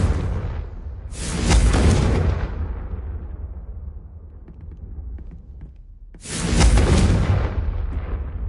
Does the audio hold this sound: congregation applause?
no